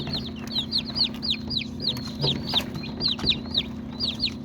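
Three-day-old chicks drinking water give a steady run of bright, rhythmic peeps, roughly two or three a second, close by over a low constant hum.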